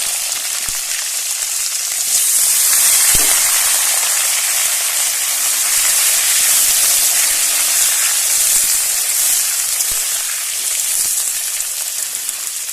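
Green chili, eggplant and browned potatoes fry in hot oil, giving a loud, steady, close sizzle and hiss that runs unbroken throughout, with a few faint clicks and no voices.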